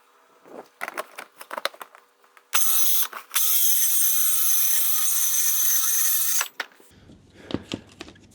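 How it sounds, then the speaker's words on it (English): A plunge saw cuts into van wall paneling: scattered clicks and handling knocks come first, then the saw screams loudly and steadily for nearly four seconds with a brief dip, followed by more clatter and a low hum. "I'm just going to plunge my saw back in"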